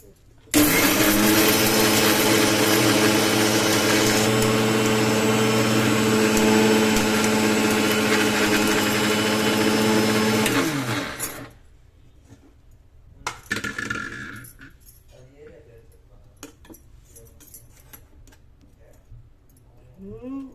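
A mixer grinder blends green chillies, chana dal and coconut, roaring loudly and steadily for about ten seconds before winding down and stopping, followed by quieter kitchen handling noises.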